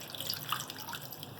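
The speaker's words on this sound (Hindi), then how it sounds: "ये आधी प्याली में पानी डालूँगी" Water is poured into tomatoes cooking in a pan, making a short, close splashing trickle with a bright watery patter.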